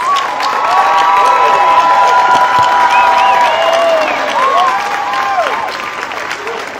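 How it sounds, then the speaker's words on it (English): Applause and cheering from a large crowd at an outdoor AIDS Walk opening ceremony, a steady loud wash of clapping with whoops and shouts rising above it, fading slightly toward the end. "Let's give another round of applause."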